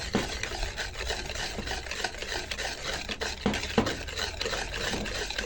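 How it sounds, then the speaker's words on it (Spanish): Batter for a two-egg sponge cake of sugar, egg and oil being stirred in a bowl, a steady close scraping and swishing that runs continuously with small clinks, no voices. "Entonces le vamos agregando el aceite y seguimos mezclándolo todo."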